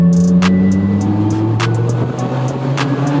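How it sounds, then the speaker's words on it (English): A loud car engine hums at a steady idle, holding low harmonic tones with sharp clicks and ticks scattered over the drone. "that car is loud"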